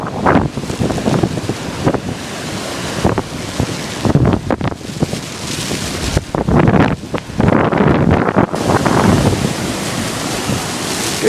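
Hurricane-strength wind gusts buffeting the microphone on the Isle of Man, with loud low rumbling bursts that rise and fall throughout, no voices.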